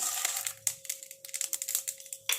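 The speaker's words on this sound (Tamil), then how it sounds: "இந்த ஸ்டேஜில் நம்ம கடுகு போட்டுடலாம் உளுந்து போட்டுடலாம்" Mustard seeds and urad dal drop into hot coconut oil, setting off quick, sharp crackles and pops in an irregular burst of spattering close by, quiet overall, with no talking.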